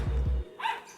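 A dog at a pet sale where birds and dogs are sold gives two loud, close barks, then a brief higher yelp after a pause.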